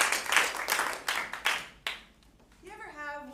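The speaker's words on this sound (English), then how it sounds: "Let's give a round of applause to the ladies." A live improv comedy audience claps in a burst of sharp, close applause that tapers off within about two seconds, then a voice begins speaking.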